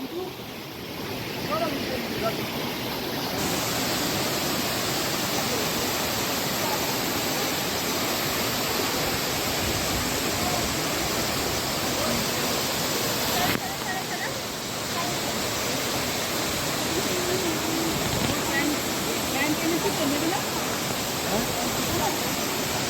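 Changey Waterfall in Kalimpong roars as a steady, loud broadband rush of falling water close by, continuous throughout with no pause.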